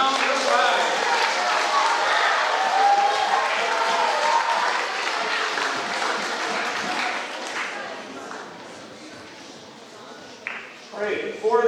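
Audience applause in a school hall for four contestants at a grades 5–8 social studies bee, steady dense clapping for about eight seconds that thins out toward the end, with talking and crowd murmur mixed in.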